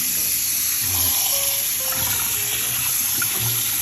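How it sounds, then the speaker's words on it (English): Blanched broccoli rabe is rinsed under a cold running tap, a close, steady stream of water hissing and splashing into a sink, with no talking. "rinsing it under the cold water"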